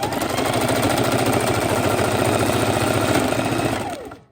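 A sewing machine runs fast and steady while stitching raw edge appliqué along V shapes, its rapid even needle chatter loud and close for about four seconds, then winding down and stopping.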